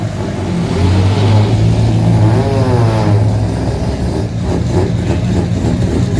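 A Mazda RX-8 rally car engine revs loudly and close, a rough, buzzing rotary drone that rises and falls in pitch under acceleration, with no voices over it.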